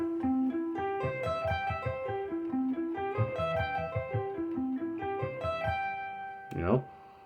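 Guitar sweep picking exercise played alone, quick arpeggiated runs rolling up and down across the strings in a steady repeating pattern, fairly loud and close, ending with a brief scraping slide on the strings.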